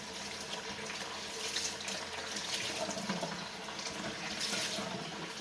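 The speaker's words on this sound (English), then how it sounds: "Let me rinse this off." Steady water running from a kitchen sink tap while something is rinsed, a continuous close hiss and splash with no talk over it.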